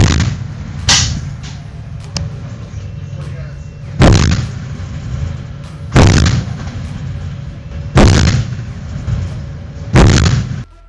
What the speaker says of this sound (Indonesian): OTO Melara 127 mm Vulcano meriam dengan kemampuan serangan presisi jarak jauh, mampu menembakkan amunisi berpemandu hingga 80 km.